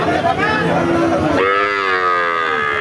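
A cow with her calf at an outdoor cattle market lets out one long, loud, close moo that rises and then holds, over a faint crowd murmur.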